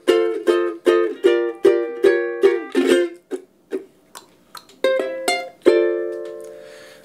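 A ukulele plays the descending melodic line from the close of a song, clear plucked notes and strummed chords stepping downward, alone and close, ending on a sustained final chord.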